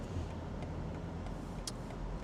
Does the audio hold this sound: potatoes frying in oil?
no